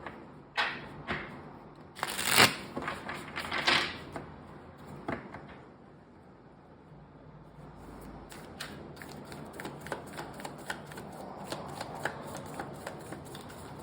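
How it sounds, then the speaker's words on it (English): Quick riffling bursts of a card deck being shuffled, followed by softer rustling and tapping of cards, close up and fairly quiet. "Okay, and they want me to shuffle one more time."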